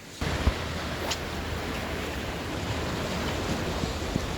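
Steady roar of East Sea surf breaking on coastal rocks, a continuous broad rush with slight swells, wind blowing across the microphone, no voices.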